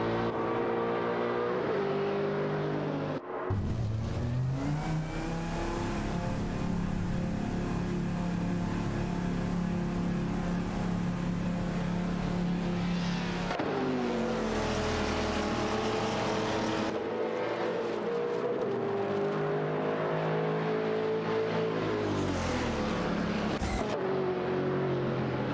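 Race cars in a racing video game tearing around the track, a continuous loud engine drone with shifting pitch as they rev, accelerate and change gear, with no talking over it.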